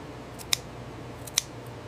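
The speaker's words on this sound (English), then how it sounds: "We cut a sample from every production batch to test fire safety." Two crisp, close scissor snips about a second apart, cutting a sample of artificial Christmas tree material in a tree factory, with a low steady hum behind them.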